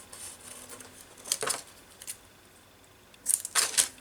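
Scissors snipping paper for a handmade collage, a few short crisp cuts in scattered bursts with quiet gaps between, close and fairly soft.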